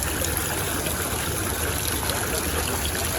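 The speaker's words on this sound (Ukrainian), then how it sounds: "На фонтанчик дивимось." A small fountain in a botanical garden splashes and trickles continuously, a close, even patter of falling water with no voices.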